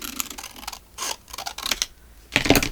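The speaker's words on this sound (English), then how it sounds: "And I'm going to cut it in half." Scissors cutting a piece of paper in half, with a few crisp, close snips and paper rustles at an uneven pace.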